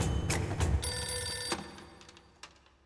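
A telephone bell rings loudly and close in two or three bursts, then fades with a faint trailing ring, no talking over it.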